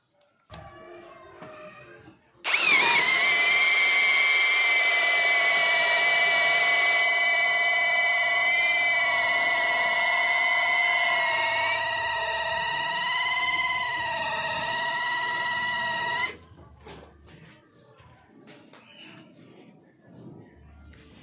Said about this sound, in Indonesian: Uji tanding kedua saya menggunakan mata bor ukuran 12 mm di percepatan yang high juga dan modenya adalah mode drilling